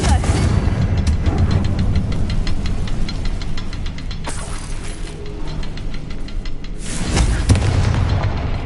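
Loud, continuous crackling blast and rumble from a Confringo spell in Hogwarts Legacy, with sharper bursts near the start, middle and end.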